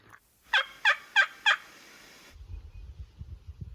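A turkey gobbles in a quick rattling burst of four loud calls, followed by low rumbling noise.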